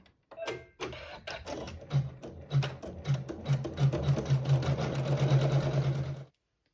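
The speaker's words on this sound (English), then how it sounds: "we'll sew satin stitching over fabric 5" A sewing machine sews dense satin stitching over quilt fabric, starting with a few slow stitches then speeding into a fast, even rhythmic chatter, close and alone until it stops.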